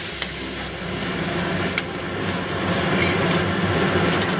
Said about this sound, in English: Add the vegetable stock.